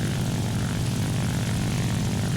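A small I-16 propeller fighter plane in War Thunder drones steadily and loudly throughout, a continuous engine roar with no breaks or voices over it.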